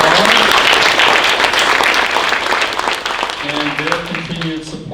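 An audience at a university venture competition finals gives loud, dense applause for the title sponsor, a bank, the clapping sustained throughout while a speaker's voice comes back in near the end.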